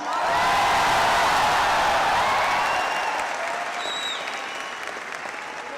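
A large audience at a Delhi success day event bursts into loud, enthusiastic applause with a few whoops, the dense clapping peaking early and then gradually thinning out.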